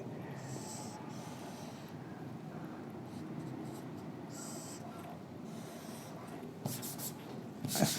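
Chalk scrapes and taps on a board during a lecture on T-beam moment calculations, heard as faint, scattered strokes in short bursts over a quiet room hiss, with a few sharper knocks near the end.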